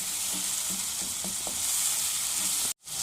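Spices fry in oil in a pan for Pakistani brain masala, a close, steady sizzle with a few soft stirring taps, no talk, cutting out abruptly near the end.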